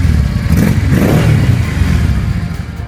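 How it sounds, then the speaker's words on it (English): A Honda NT650 Deauville motorcycle exhaust rumbles loudly and steadily up close, a dense low engine drone with slight rises in revs and no voices. "Exhaust sound of Honda NT650 by Deauville."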